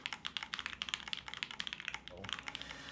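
Fingers typing on an FLX Virgo mechanical keyboard, a brisk, steady run of close, crisp clicks and clacks with a brief pause near the end before keystrokes resume.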